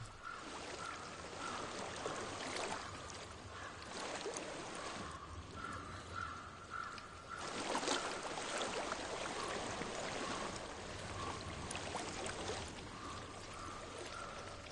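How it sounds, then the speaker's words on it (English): Flowing water in the video game Hellblade: Senua's Sacrifice, a continuous soft stream with trickling and pouring textures, layered with faint tonal ambience and no speech. "I hear water."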